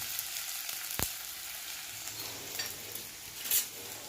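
Chopped ginger sizzles in hot oil in a pan for aloo palak. The frying hiss is even and continuous, with one sharp utensil clink near the start and a light scrape later.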